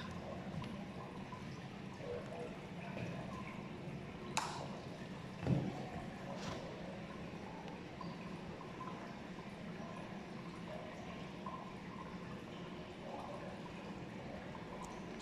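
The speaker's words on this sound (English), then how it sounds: "Still hear the water coming in." Cold water flowing in through a circulation system, a steady low rushing and hissing that runs continuously at a faint, constant level with a couple of brief knocks partway through.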